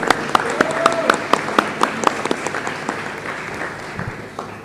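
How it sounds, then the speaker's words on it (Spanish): A smaller audience claps for panel guests at a talk on faith and ideologies, individual claps distinct and uneven, thinning out toward the end, with voices murmuring underneath. "Yo les pido otro fuerte aplauso para todos nuestros invitados el día de hoy"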